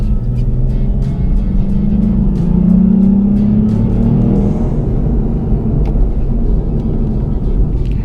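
Engine of a Lexus IS250 car cruising on the road: a steady, loud, close rumble with a gently rising tone partway through as the car pulls.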